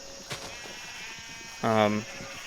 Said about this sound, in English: Yeah, we got the sheep over here.